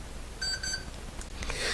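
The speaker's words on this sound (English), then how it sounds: "And that was my alarm clock just went off because I'm supposed to be done." An alarm clock goes off with a short run of rapid, bright electronic beeps, followed by faint rustling and handling noises in a quiet room.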